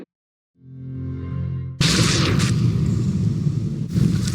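A detonation in the Life Is Strange Reunion video game bursts out after a low rising tone, then a loud, sustained roaring explosion with rumble and debris continues to the end, with a second surge near the close.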